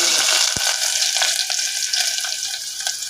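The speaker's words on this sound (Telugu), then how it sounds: "పొయ్యి మీద గిన్నె పెట్టుకుని నూనె నూనె పోసుకొని కాగిన కాగాక ఉల్లిపాయలు వేయాలి" Onions dropped into hot oil in a pan on the stove set off a loud, steady sizzle that runs unbroken from start to finish, with a sharp knock near the start and faint stirring ticks.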